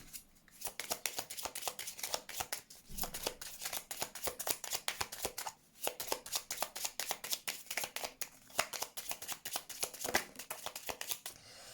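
Rapid, crisp riffling and slapping of a deck of tarot cards being shuffled close by, bursts of quick flutters broken by short pauses, no talking.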